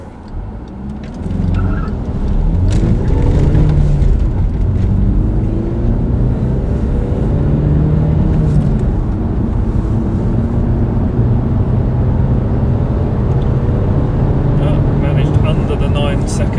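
A VW Passat TDi diesel accelerates hard from 0 to 60 uphill, the engine note climbing in pitch through several gear changes with loud, steady road and wind roar inside the cabin.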